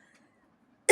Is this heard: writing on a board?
no